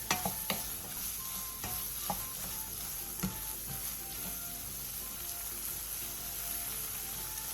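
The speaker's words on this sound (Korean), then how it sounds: "물이 자작해졌으면 당근을 넣고 골고루 어우러지게 볶아주세요." Carrots being stir-fried in a pan with bamboo shoots, steady close sizzling broken by sharp utensil scrapes and knocks against the pan early on, then an even hiss.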